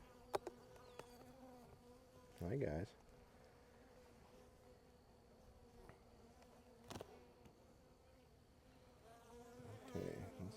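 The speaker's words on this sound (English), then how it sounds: "got bees all over the place" Honeybees buzz steadily around an open hive during a queen release, a close continuous insect hum under a brief spoken greeting and a few handling knocks.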